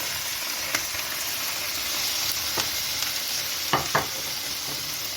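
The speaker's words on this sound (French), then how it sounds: "vous allez mettre une poêle avec de l'huile d'olive et on va faire cuire notre poisson" Fish frying in olive oil in a pan gives a steady, soft sizzle, broken by a few brief crackles and pops.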